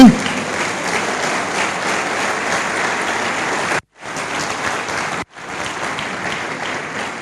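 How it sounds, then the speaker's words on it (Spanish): A church congregation at a regional retreat bursts into loud, sustained applause that carries on steadily, broken by two brief abrupt silences before resuming at full strength. "Dale un fuerte aplauso al Señor"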